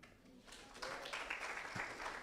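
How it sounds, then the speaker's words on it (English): Scattered audience clapping at a distinguished lecture, a modest brief patter of hands in a hall that swells slightly, with no voices over it. "you have to clap a little louder"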